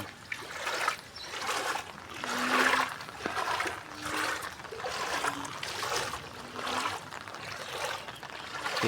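Water sloshing and trickling around the legs of someone wading through high floodwater in a flooded residential subdivision, arriving in repeated surging splashes with a low background hum.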